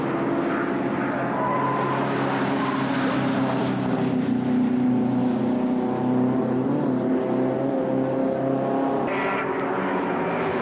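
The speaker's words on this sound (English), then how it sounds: "Here comes the leader again with a good lead now over Matthew French, Alexander Graham and Ian Knight" Volkswagen Beetle Cup race cars at a BRSCC circuit meeting, engines droning loudly and steadily as they pass on track, with a shifting pitch and no speech over the roar.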